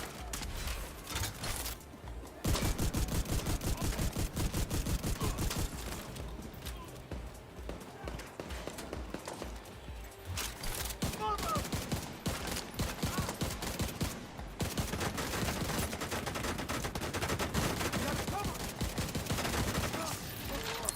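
Repeated gunfire in The Division 2, a shooter video game, with rapid bursts and single blasts running continuously at close range alongside a dense game soundtrack, with a voice talking over it.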